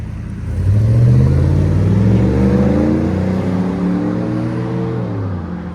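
A 2009 GMC Yukon Denali XL with a 6.2-liter V8 and Flowmaster FX exhaust revs up loud and close, a deep rumbling climb that holds then eases back down, with no voices.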